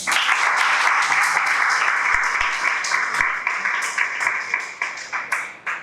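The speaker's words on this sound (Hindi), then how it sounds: "काजी के लिए तालियां हो जाए" A seated audience at a CA-CAF exam orientation session claps warmly together, a dense steady roar of applause that holds for several seconds before tapering off into scattered final claps.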